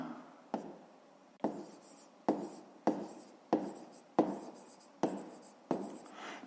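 A pen writes on paper in short bursts, about eight quick strokes each starting with a sharp tap and fading into a scratchy trail, close and clear with no talking.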